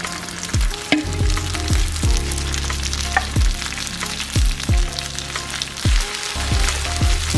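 Sliced smoked sausage, peppers and onions sizzle and crackle steadily in a hot pan. A utensil stirs or scrapes at intervals, with occasional low thumps against the pan.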